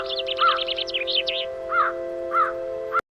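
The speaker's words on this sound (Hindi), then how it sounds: "हर तरफ पक्षियों की आवाजें सुनाई देती हैं" Birds call at sunrise with a quick run of chirps and then several spaced cawing calls over a steady tonal hum. The sounds are fairly loud and close, and everything cuts off abruptly at the end.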